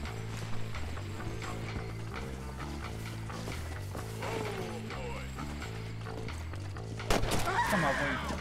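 A horse in the video game Red Dead Redemption clops along in rhythmic hoofbeats over a low game soundtrack, with a sudden louder burst of action noise near the end.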